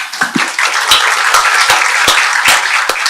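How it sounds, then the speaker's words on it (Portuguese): An audience at an international event claps for Denise Bax, a short burst of brisk, fairly close applause with distinct individual claps standing out. "Queria que a gente desse mais um aplauso para a senhora Denise Bax."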